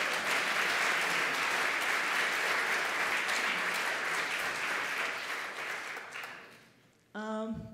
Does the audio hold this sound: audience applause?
yes